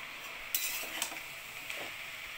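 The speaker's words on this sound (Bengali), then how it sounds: "এবার নেড়ে চেড়ে আবার চাপা দিয়ে দেবো" Onion stalk curry being stirred in a pan, giving a few sharp utensil scrapes against the metal over a soft, steady background hiss.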